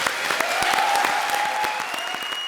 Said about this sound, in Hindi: तो जरा कृष्णा के लिए जोरदार तालियां हो जाएं।